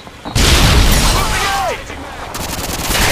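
A grenade explosion in the shooter game Modern Warfare 2 bursts loudly and close, followed by sustained rumbling and other gunfire, with a person talking over it.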